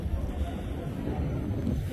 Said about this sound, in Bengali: তো দেখতে পাচ্ছেন লঞ্চ এখন ডান দিকে ঘুরতেছে আস্তে আস্তে।